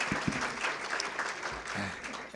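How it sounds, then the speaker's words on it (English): Applause for Congresswoman Maxine Waters at a regional political event, a short burst of crowd clapping with a few voices rising through the noise. "Let's give her a great big round of applause."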